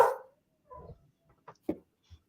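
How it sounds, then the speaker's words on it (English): A dog barks faintly in the background of a home livestream, a few scattered, muffled barks with quiet gaps between them. "I'm sorry if you hear the dog barking."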